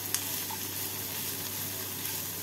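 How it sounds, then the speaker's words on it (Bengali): Chopped onion and small diced capsicum sizzle steadily in oil in a pan while being stirred, a constant crackling fry with occasional light scrapes of the spoon, no voices. "পেঁয়াজের সাথে নাড়াচাড়া করে নিচ্ছি।"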